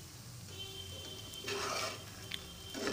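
Pieces of pendalam, purple yam, fry in a pan over medium flame with a steady soft sizzle. A stir and a brief clink of utensil against the pan break through midway, and the hiss swells again at the end.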